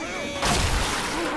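A sharp gunshot in the zombie shooter Left 4 Dead 2 bursts out suddenly amid game sounds, loud and close, with a faint whistling tone beforehand.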